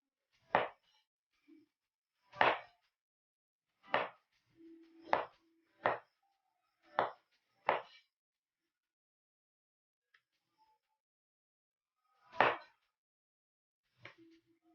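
A knife slices palapa ingredients with about nine sharp, separate cuts spaced a second or two apart, with quiet gaps in between.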